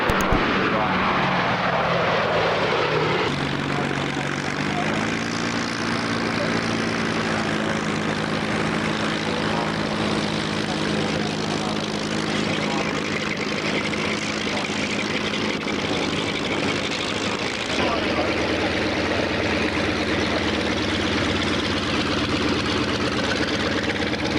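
Loud, steady droning of a B-17 bomber's piston engines with a throbbing propeller hum at a warbirds air show, continuous throughout, shifting pitch slightly as the plane passes.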